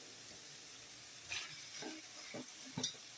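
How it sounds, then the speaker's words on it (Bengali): Shrimp with shells on go into a pan of fried spice masala, giving a low steady sizzle with a few soft stirring clinks and splutters, fairly faint and heard alone. "এখন আমি চিংড়ি মাছগুলো দিয়ে দেবো"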